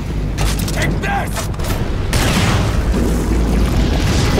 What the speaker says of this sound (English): Plan C, rocket-propelled grenade